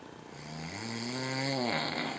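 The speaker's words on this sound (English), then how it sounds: "Why you snoring so loud?" One loud, sustained snore from a sleeping person, buzzing and droning as it rises and holds, then stops abruptly, with nothing else audible.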